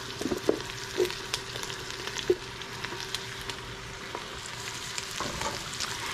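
Mushrooms sizzle in a pan for pasta, a soft, steady frying hiss with a few light clicks and taps of a utensil, fairly quiet and close, with no one speaking.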